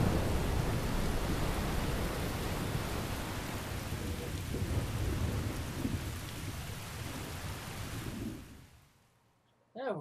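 A dense roar of heavy rain and rolling thunder fills a sailing storm scene in the video game Tales of Berseria, steady and loud before suddenly fading to near silence at the end.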